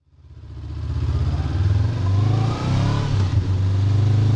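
A 2022 Honda CB500X motorcycle pulls away and rides on, its engine note rising from quiet to a strong, steady throb with brief dips between gears, close and alone without talk.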